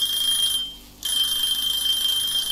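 A kitchen timer alarm in the video game Cooking Simulator rings as a loud, continuous high electronic tone, briefly cutting out once before resuming, with no talk.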